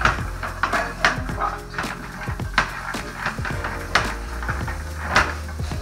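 Warmed pecans being stirred with butter and sugar in a pan, giving close rattling knocks and scrapes of nuts and utensil against metal in an uneven rhythm.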